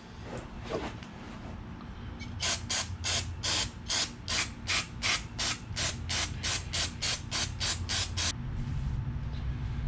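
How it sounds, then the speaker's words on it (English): Rapid bursts of aerosol spray, about fifteen short hissing puffs in a steady rhythm, close by over a low mechanical hum, spraying down a generator during repair. "So we're just going to spray this down."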